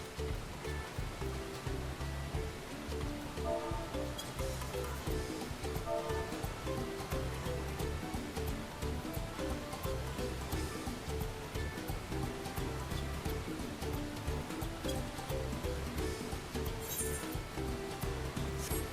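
A river flows in Final Fantasy XIV, a steady, soft rushing of water with faint clinks and game ambience, continuous and fairly quiet throughout.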